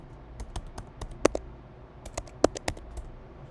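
Keystrokes on a computer keyboard during a network security login, scattered sharp clicks at an irregular pace with two louder taps standing out, fairly close and quiet.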